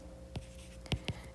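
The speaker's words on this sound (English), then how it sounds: "I'm going to go ahead and write out that formula" A pen or marker scratches out a formula on a writing surface in a few short, faint strokes with pauses between them, in a quiet room with no talking.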